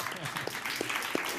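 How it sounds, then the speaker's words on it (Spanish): An audience at a presentation event claps together, a dense patter of applause with a few louder individual claps, while someone talks over it. "pido un aplauso para él"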